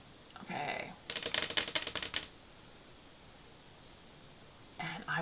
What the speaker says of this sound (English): I was like speed typing at this point.